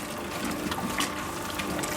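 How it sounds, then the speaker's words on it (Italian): Water trickling in a thin steady stream into a pizza dough mixer in a Neapolitan pizzeria in Rome, a continuous close wash of splashing and churning with the machine running underneath. "Adesso andiamo ad aggiungere la restante parte d'acqua, come dicevo prima, a filo per non far riscaldare tutta la maglia proteica"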